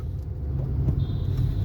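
A car driven by a learner rolls on steadily after a shift into second gear, a continuous low engine and road rumble close by with a faint thin whine, no talk.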